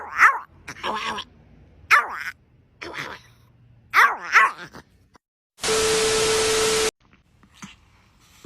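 A dog makes a string of short, yelping owa-owa howls in close bursts, with a loud steady electronic tone cutting in for about a second partway through.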